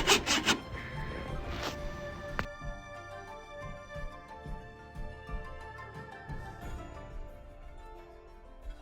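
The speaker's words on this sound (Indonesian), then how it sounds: "Jadi kita gergaji dulu kawan-kawan" A hand saw cuts through wood with a few loud rasping strokes at first, then quieter scraping and rubbing continues faintly at close range.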